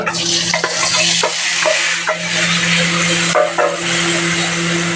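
Black cumin seeds and spices hit hot oil for an eggplant dish, letting out a loud, close, crackling sizzle, with a few sharp stirring knocks against the pan and no voices.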